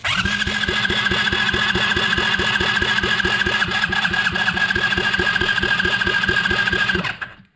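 A repaired GIO engine runs steadily with a rapid, even mechanical chugging and a droning whine, loud and close, holding its pace for several seconds before cutting off abruptly.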